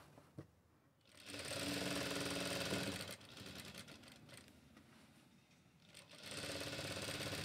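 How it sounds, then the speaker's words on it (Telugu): A tailoring sewing machine runs in steady bursts while stitching fabric, a loud buzzing whir that starts after a second, pauses briefly mid-clip and resumes at a lower level before surging again, with no talk. "చక్కగా మనం ఇలా కుట్టు వేసేసుకుందాం"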